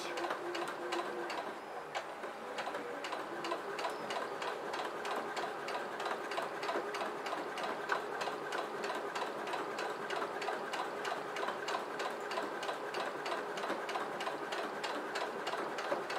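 Domestic sewing machine topstitching the fabric ears of a baby bath cape, a steady fast needle rhythm running continuously and close, with no talk.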